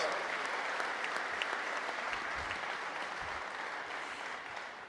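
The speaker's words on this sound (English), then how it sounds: "Let's give her a big round of applause." At a St. Louis press conference announcing a soccer team, an audience gives a sustained round of applause, a dense even wash of many clapping hands heard from some distance, steady and unbroken throughout.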